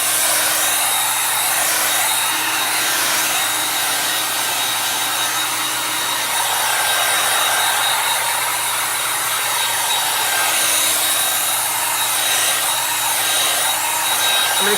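A hot heat gun blows steadily and loudly up close while drying a coat of chalk paint, a constant whooshing roar with a faint fluctuating tone that never lets up.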